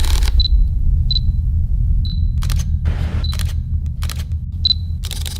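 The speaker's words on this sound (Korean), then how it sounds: "이 셔터 소리조차도 뭔가 좀 명품처럼 느껴지는 그런 카메라가 후지 필름이거든요." A Fujifilm camera shutter clicks about six times at irregular intervals. The clicks are crisp and close, with a few short, noisy bursts between them, over a steady low hum.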